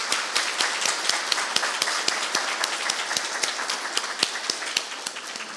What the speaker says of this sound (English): I'd like us to give another round of applause for our poets.